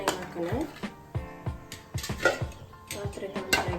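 A metal cooking pan is set onto a stove while vegetable upma is being made, giving a few light clanks and scrapes of cookware mixed under a person talking.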